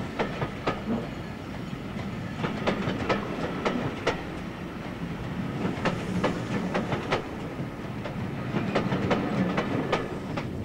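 An electric train on the Sheffield–Manchester line near Penistone rolls along at speed, its wheels giving a steady clickety-clack of rhythmic rail-joint knocks over a constant low rumble.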